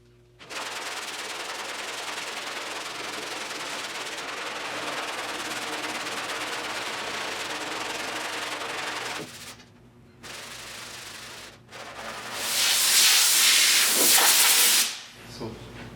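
Coarse 40 grit sandpaper scrubs a car body panel of a 1972 Triumph GT6 under restoration, a steady close rasping hiss that stops briefly, resumes, then swells into a louder burst before fading.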